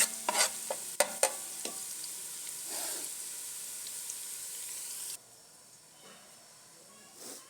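Onions turning half golden in a pan for a mixed vegetable sabzi, giving a steady sizzling hiss with sharp stirring clatters near the start, which quiets to a softer fry partway through.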